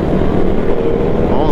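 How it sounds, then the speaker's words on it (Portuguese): Motorcycles rev and accelerate on a road at night, a loud, close, steady engine drone heard alone. "Uns doidos aí acelerando"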